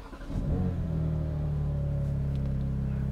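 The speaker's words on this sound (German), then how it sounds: "Ein wunderschöner Sechszylinderklang." A BMW M4 Competition Coupé's six-cylinder engine starts up, flares briefly and then settles into a loud, steady, close idle with a deep even drone.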